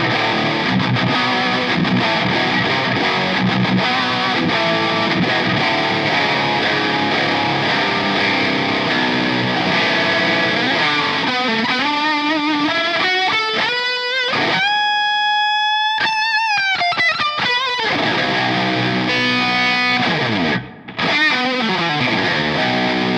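Heavy, distorted metal electric guitar on a gain 2 setting plays loud chugging riffs with sustained chords and bending notes, with a brief pause near the end.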